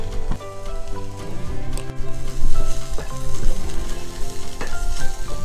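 Onions sauté with curry leaves and turmeric in a pan, producing a loud, dense, close sizzle with spatula scrapes and stirs throughout.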